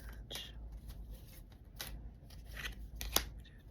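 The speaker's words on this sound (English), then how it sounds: "One more shuffle." An oracle card deck being shuffled, with soft papery riffles and taps coming in several short bursts at close range, fairly quiet over a low background hum.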